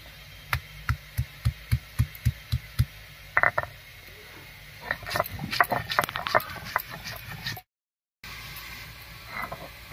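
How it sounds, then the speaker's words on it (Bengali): Ginger and whole cumin are ground together into a paste for a radish-greens dish: a run of evenly spaced, close knocking thuds, then a busier stretch of irregular clatter and scraping before a brief gap. "এক টুকরো আদা আর 1 চামচ গোটা জিরা একসঙ্গে করে বেটে নেব।"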